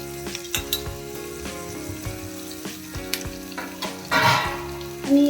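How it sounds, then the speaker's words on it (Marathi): Ingredients go into hot oil in a kadhai with a loud, close sizzle and clattering stirs from a spoon against the pan, building to a burst of spitting near the end, with no speech. "आता आपण ही जी आपली काढली होती ती की तेलात फ्राय होण्यासाठी इकडे कढईत टाकून देऊ"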